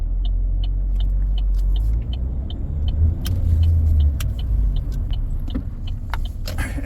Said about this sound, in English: As you see, it misfired quite a bit just coming over to the shop.